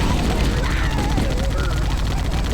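Dense, continuous gunfire from Halo battle fighting, sustained rapid bursts that stay loud throughout, with voices talking over the shooting.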